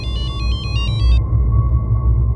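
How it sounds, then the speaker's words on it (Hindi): A landline telephone rings with repeated electronic trill bursts in quick succession, then stops halfway, leaving a steady low hum with no voices. "लैंडलाइन नंबर से फ़ोन आया"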